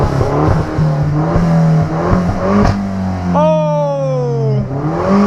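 A Citroën DS3 Racing with a 203 hp engine revs hard while accelerating, its loud engine note climbing through repeated gear pulls with a sharp rising sweep near the end, heard from inside the car.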